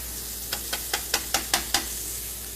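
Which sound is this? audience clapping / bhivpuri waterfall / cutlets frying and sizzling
cutlets frying and sizzling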